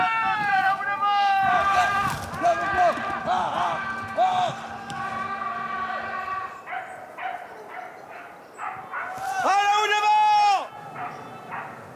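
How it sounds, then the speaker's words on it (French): Several hunting dogs tracking big game bark and bay repeatedly, some near and some farther off, in overlapping bursts with drawn-out howling yelps. "La voix des chiens rapproche."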